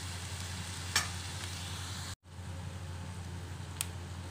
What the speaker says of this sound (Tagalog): igisa lang po natin hanggang medyo mag-brown din yung ating drumstick